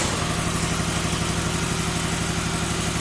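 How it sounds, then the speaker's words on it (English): An air compressor runs in an auto repair shop, a loud, steady mechanical drone with a fast, even pulsing chug that continues unbroken throughout, heard close with no voices. "I'm gonna wait for the compressor to stop."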